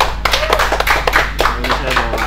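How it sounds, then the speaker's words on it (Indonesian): An audience at a business talk on mastering a target market claps together in a burst of scattered hand claps. A voice carries over the clapping. "Oke, luar biasa, tepuk tangan dong."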